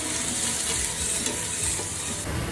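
Ginger garlic paste frying in butter with browned onions in a pan, a steady close sizzle with stirring scrapes running throughout, no voices.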